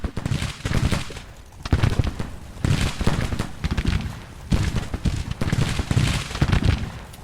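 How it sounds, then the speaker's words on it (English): Gatling guns firing during a Civil War battle in Grand Tactician: Civil War, dense rattling bursts of rapid gunfire in repeated waves with short lulls between them, loud and filling the scene, no voices. "I'm hearing Gatlings, and those aren't mine."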